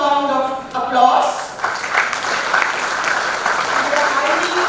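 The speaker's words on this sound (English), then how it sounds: "Once again, a round of applause." Audience at a 2023 convocation ceremony giving a round of applause for the chief guest and guest of honor, broad steady clapping that swells after a brief voice at the start and continues evenly.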